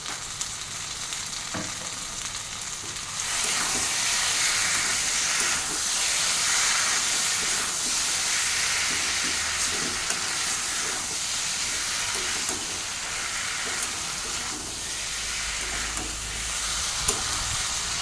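Masala for a shol fish kalia curry sautés in a little olive oil, a loud, continuous hissing sizzle broken by repeated stirring scrapes over a long stretch with no talk.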